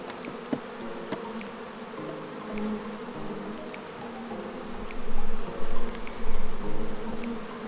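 Honeybees swarm around an open hive during an inspection, a steady droning buzz with individual bees flying close by and swelling louder in the last few seconds.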